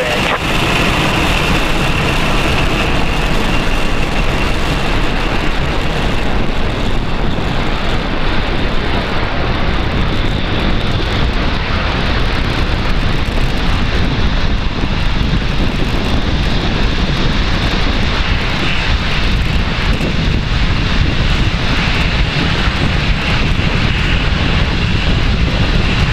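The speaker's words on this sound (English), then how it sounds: "Ignition and liftoff." A SpaceX Falcon 9 rocket lifts off on the Transporter-5 mission, its engines a continuous, dense, loud roar with crackling texture that holds steady throughout.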